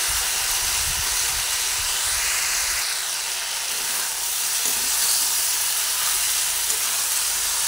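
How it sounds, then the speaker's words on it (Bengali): Pumpkin and tomato cooking in a pan, a steady close hiss and sizzle with occasional soft stirring scrapes, no talking. "টমেটো দেওয়ার পরে আবার একটু ভালোভাবে নাড়িয়ে চাড়িয়ে নিচ্ছি।"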